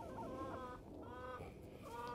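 Backyard chickens in a fenced run clucking softly, several birds with repeated short calls, faint and moderately distant.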